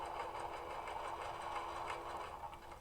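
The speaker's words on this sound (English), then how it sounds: "I'm sewing over the edge to secure it with these extra stitches." A sewing machine stitches over the edge of a foam shoulder pad, running in a steady, close, fairly quiet whir with a fast, even needle patter and no talking.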